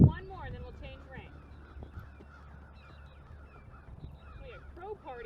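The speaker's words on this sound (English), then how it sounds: "We have a crow party out there." Crows caw outside, several scattered harsh calls at a moderate distance over low background rumble, while a person talks nearby at a horse riding lesson.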